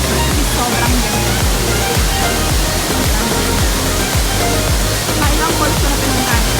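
Nikobuchi waterfall in Japan pours with a loud, steady, close roar of falling water that stays constant throughout.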